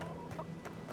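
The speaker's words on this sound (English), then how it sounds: "Look at the rooster!" A rooster clucks softly in the fantasy video game Avowed, a few faint, brief calls over a low steady ambient bed.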